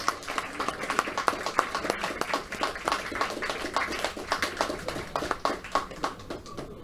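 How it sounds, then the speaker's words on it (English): A small audience at a Mind Sports Olympiad Pentamind victory ceremony applauds the women's champion, sparse distinct handclaps in a loose rhythm, close and moderately loud, tapering slightly toward the end. "So another round of applause to our women's Pentamind champion."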